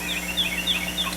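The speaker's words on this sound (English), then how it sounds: "And there's my big chicken." A big farmyard chicken calls, giving a rapid gobbling, bubbling cluck several times in a row at close range over steady background hum.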